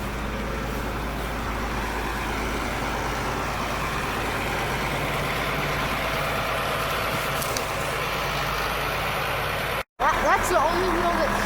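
A 1964 Chevy M-80 dump truck with dual exhaust runs steadily nearby, its low engine drone continuous beneath people talking, briefly cut off near the end.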